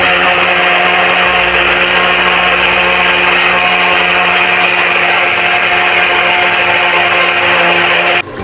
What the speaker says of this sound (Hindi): इसको मिक्सी में पीस लेते हैं हम।